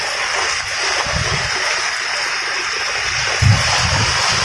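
Heavy rain pours down over a village in a loud, steady hiss, with water rushing and flowing close by and a few thumps of splashing.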